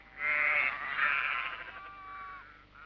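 Sheep being mustered on a high-country farm: a single long, wavering bleat rises quickly, holds for about two seconds and fades, fairly near and clear over a faint background.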